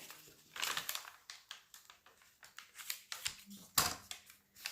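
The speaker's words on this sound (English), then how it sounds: "So I'm going to cut there." Scissors cut through a paper lunch bag, close, crisp snips and paper crinkles in an irregular rhythm, fairly quiet overall.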